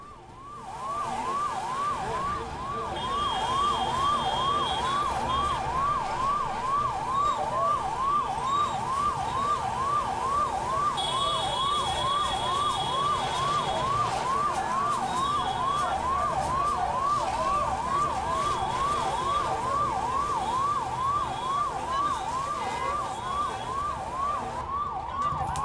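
Fire engine siren wailing continuously at a mosque fire in Tolichowki, Hyderabad, a steady rising-and-falling tone held loud and close for the whole stretch with no talk over it.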